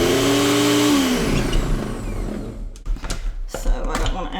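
A blender whirs loudly and steadily as it purees hummus with garbanzo beans, then winds down after about a second. Scraping and clattering follow as the mixture is stirred.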